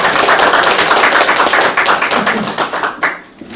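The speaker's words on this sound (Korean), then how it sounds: "박수 한번 보내주시죠." An audience at a community screening of a North Korean film in Jecheon gives a loud, sustained burst of dense applause that tapers off near the end.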